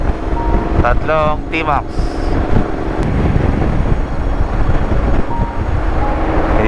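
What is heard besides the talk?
strong wind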